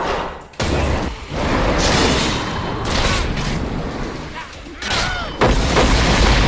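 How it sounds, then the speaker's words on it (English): Explosive blasts from a weapon enchantment in Neverwinter, heavy booming bursts striking a target in several loud waves with short gaps between them, layered over dense game effects. "I'm curious to see if this weapon enchantment will explode the target."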